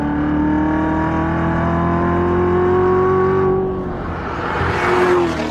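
A loud, deep exhaust drone holds steady from a nearby Corvette Z06 with its adjustable exhaust in track mode, then dips and surges again as the engine revs up.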